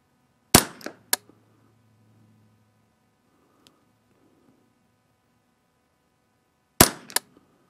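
A modified 10-22 rifle fires a few sharp, loud shots at a target: a cluster of two or three quick reports, a long quiet pause, then two more near-together shots.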